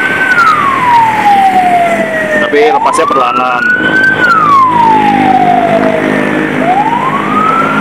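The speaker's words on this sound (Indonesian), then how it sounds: "Maaf ya guys, tadi ada ambulan." A passing ambulance's wailing siren sweeps up and down loudly and continuously, with a person speaking briefly over it.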